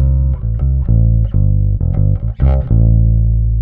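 An electric guitar with every tone and volume knob turned fully up plays a short run of sustained, bright chords and single notes, each ringing out clearly with brief gaps between.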